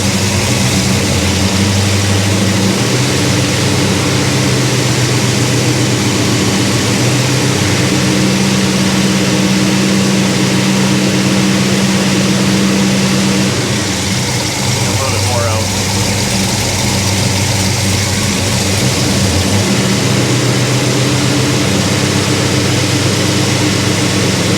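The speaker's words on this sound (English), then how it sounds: "Idling at like 850 RPM." A Chevrolet Monte Carlo V8 idles at around 850 RPM with a steady, loud, lumpy rumble close by, settling briefly partway through, while people talk faintly nearby.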